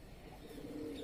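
A pigeon held in the hands coos softly, a low, brief murmur standing alone at close range.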